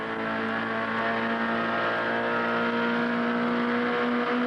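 Race car engine at about 110 mph powering out of a 180-degree sweeper turn, a steady loud sustained drone with strong harmonic tones, held evenly throughout with no clear gear-change break.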